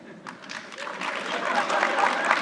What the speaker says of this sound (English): Those who want the marijuana farm, let me hear applause